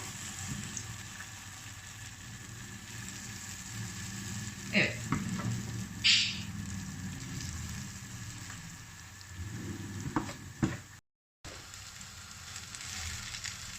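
Steady oil sizzle of zucchini fritters frying in a pan, with a few brief clanks and scrapes of a utensil turning them partway through.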